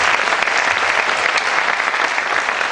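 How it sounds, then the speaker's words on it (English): Sustained, dense applause from an audience after a talk on sudden death, steady and loud throughout with no speech over it. "Can we clap for our speaker once more?"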